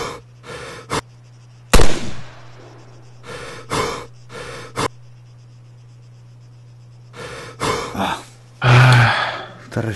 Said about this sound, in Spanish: Esta respiración de mierda